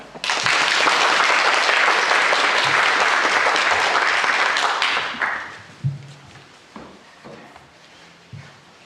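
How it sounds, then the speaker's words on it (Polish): Loud, dense applause from a theatre audience after a children's play fills the first five seconds, then tapers off into scattered claps and a few thuds. "Wielkie brawa!"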